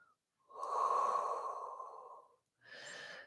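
A long, forceful exhale through the nose during a Pilates core workout, followed by a shorter second breath, close and clear in a quiet room with no talking.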